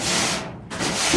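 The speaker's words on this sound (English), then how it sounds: "I'm just doing a little sanding" Close, rough scraping of sandpaper rubbed back and forth by hand, two strokes with a brief lift between them.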